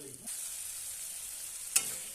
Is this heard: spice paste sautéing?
yes